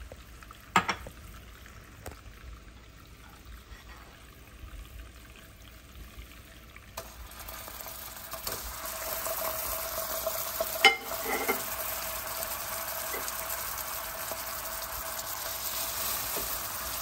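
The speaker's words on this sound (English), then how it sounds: "we're gonna whisk in the butter." Butter whisked into a sizzling, low-fat, sugar-free protein caramel in a pan. It starts as a quiet simmer with a few clinks, then swells into a steady loud fizz and sizzle with occasional whisk taps against the metal.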